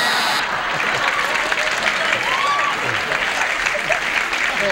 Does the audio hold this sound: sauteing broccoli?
no